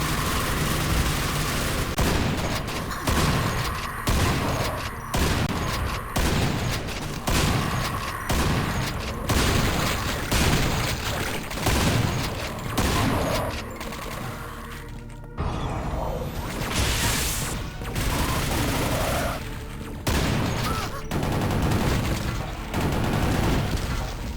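Enemy gunfire in the Quake Brutalist Jam 3 video game, loud rapid rhythmic shots in a sustained barrage with mechanical clatter, broken by a short pause and then resuming.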